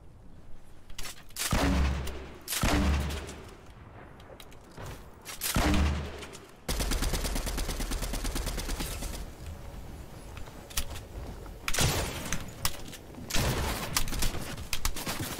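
Fortnite gunfire in a Tilted Towers match: separate loud bursts of shots early on, then a long sustained stretch of rapid fire and later more bursts, all close and without talk.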